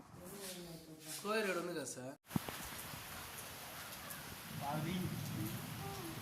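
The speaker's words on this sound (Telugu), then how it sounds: "ఈరోజు ఇక్కడ వాన భయంకరంగా పడుతుంది." Heavy rain pours down steadily as a broad, constant hiss filling the background, with a voice talking over it at the start and a sharp knock partway through.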